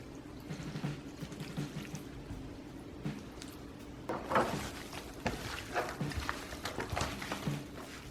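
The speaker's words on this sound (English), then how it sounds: "We're gonna pour a little bit of it just over the top of the pork and kind of mix it in" Pan juices poured from a container over shredded barbecue pork butt in a backyard barbecue setting, a soft, wet pour and squelch running through the whole stretch with a few brighter splashy bursts partway through.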